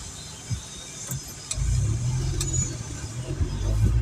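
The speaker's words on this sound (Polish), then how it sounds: "tutaj cały czas praktycznie jadą auta z prawej, lewej strony" Cars passing on a road, with traffic coming from both the right and the left. A low, steady engine rumble swells up from about halfway through and carries on, with a few faint clicks before it.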